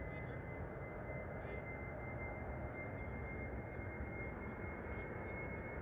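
Cargolux Boeing 747 cargo jet taking off at Amsterdam Schiphol, a loud, steady broadband engine roar with a thin high whine, continuous and unbroken throughout, no voices.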